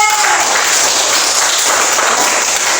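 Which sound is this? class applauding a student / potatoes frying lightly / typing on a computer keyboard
class applauding a student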